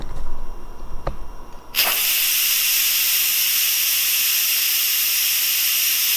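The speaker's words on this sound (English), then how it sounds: "Now we're gonna do a quick release." An Instant Pot cooking kielbasa and sauerkraut goes into quick release with a sudden, loud, steady hiss of escaping steam that carries on unbroken after a click and a brief low rumble.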